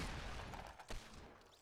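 Gunfire in a Fortnite match with several players shooting from many directions: a dense, steady rattle of shots, with one sharper burst partway through.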